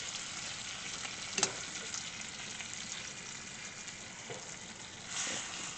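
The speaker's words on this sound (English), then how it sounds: "Get this bacon going." Bacon frying in a pan on a new stove gives a steady, fairly quiet sizzle throughout, with a sharp crackle near the start and a brief swell toward the end.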